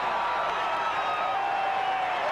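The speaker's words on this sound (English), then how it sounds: "Listen to the crowd." A steady, distant crowd roar fills the Miami Arena during a Miami Hurricanes home college basketball game against the Duke Blue Devils, a continuous cheering wash with no single voice standing out.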